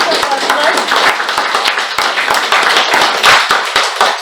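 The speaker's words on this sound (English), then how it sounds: "let's give a big round of applause" An audience at a joint Toastmasters club meeting claps for the evening's Toastmaster, brisk, loud applause with distinct individual hand claps close by, steady throughout.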